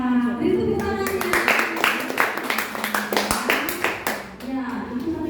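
Students clap for a classmate after a talk at a PEKERTI training session at UNIB, a run of close, uneven claps under a loud speaking voice with children's voices nearby.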